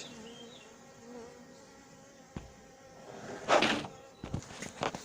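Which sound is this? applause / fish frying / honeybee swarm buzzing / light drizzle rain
honeybee swarm buzzing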